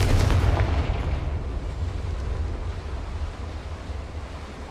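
A Confringo blasting curse from the Hogwarts Legacy video game erupts in a loud, booming blast that rolls off into a long rumbling decay.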